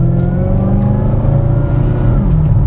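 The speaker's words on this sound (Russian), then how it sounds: "мы слышим звук компрессора, даже вот отсюда" Chevrolet Camaro SS with a supercharger, rated at 600 horsepower, driven on Krestovsky Island: a loud, steady close-up engine drone with deep exhaust rumble and a continuous mechanical whine, held evenly throughout with no talk.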